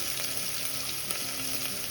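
Spices sizzle steadily in hot oil in a pan, with turmeric just added for Kathiawadi muthiya dhokla, a close, continuous frying hiss with faint stirring and no voices.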